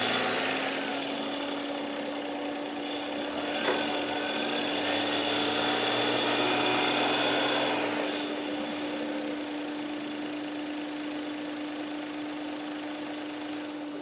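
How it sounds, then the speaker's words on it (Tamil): A Renault 7-seater car's 71 bhp engine started and left idling, a steady low hum with a mid-clip swell, heard from close by with no talk. "இந்த என்ஜினை ஸ்டார்ட் பண்ணி இந்த என்ஜினோட என்விஹெச் லெவல்ஸ் எப்படி இருக்குது அப்படின்றத பார்த்துடலாம்"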